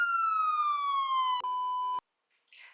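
A police siren sound effect sweeps down in a single loud electronic wail, then holds a flat tone before cutting off abruptly into near silence with a faint rustle at the end.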